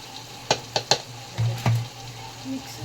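Spoon stirring fish pulusu in a pot, Telangana style: three quick knocks against the vessel, then two longer dull scraping strokes, close by with a low gentle simmer underneath.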